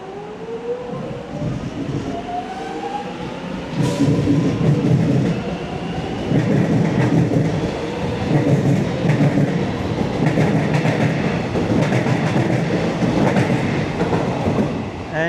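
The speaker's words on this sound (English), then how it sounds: "And off goes the Lilydale train" A Lilydale suburban electric train departs Box Hill station, its motors whining upward in rising tones over a steady rumble and clatter of wheels, loud and close throughout.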